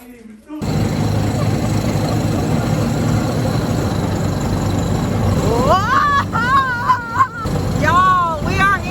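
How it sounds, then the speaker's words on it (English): Loud engine of an amphibious car carrying tourists in Mexico, a constant heavy rumbling drone throughout with people talking and chattering over it, and brief whistling or squealing tones near the end. "we are in our amphibicar. Sorry if you cannot hear us, but it's a loud engine."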